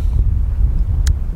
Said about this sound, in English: the wind here is brutal today